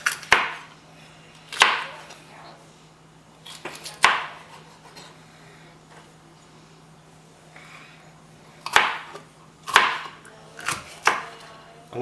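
A kitchen knife chops vegetables on a cutting board while preparing a Pennsylvania dish: sharp, close chops in irregular clusters, with quiet pauses between the bursts.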